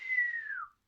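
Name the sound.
person whistling, imitating a dog whistle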